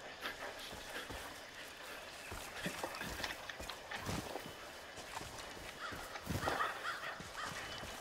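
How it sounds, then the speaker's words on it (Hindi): Harsh crow caws from the Far Cry 5 video game, heard as a few quiet, scattered calls over a soft bed of in-game ambience and rustling footsteps, the clearest burst near the end. "कौवा,"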